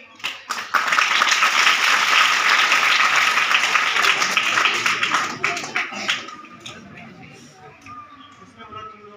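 An audience claps loudly after a solo theatre performance, the applause rising after a few scattered claps, holding full and dense for several seconds, then thinning into lighter clapping and faint background voices.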